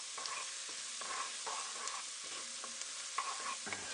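Onions seasoned with salt and pepper sizzle in a pan, a steady quiet frying hiss broken by several light stirring scrapes, with no voices.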